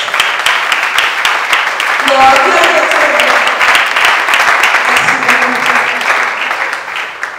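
A crowd at a political party gathering breaks into sustained, dense applause honoring guests, loud and close throughout, with voices and cheers mixed into the clapping.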